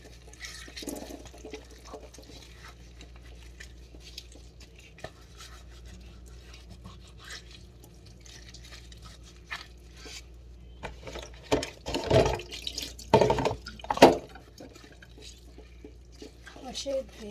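Raw beef being washed with water and lemon, with water splashing and running in bursts, louder toward the end, while a person talks over it.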